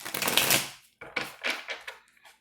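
A deck of Sherlock Holmes tarot cards being shuffled by hand, a burst of crisp riffling followed by several shorter papery flicks and taps, close and fairly loud with no talking.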